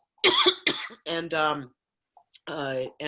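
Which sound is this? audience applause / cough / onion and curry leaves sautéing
cough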